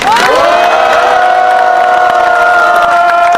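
A crowd at a National Assembly plenary session gives cheering and applause for a party floor leader about to speak, a loud, sustained roar of voices with whoops under steady clapping throughout.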